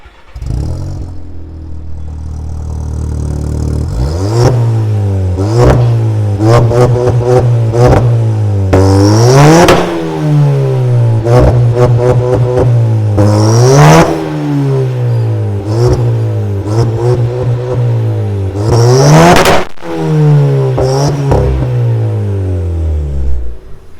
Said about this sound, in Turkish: Evet şimdi gazlayalım. Güzel bir ses dinletelim size.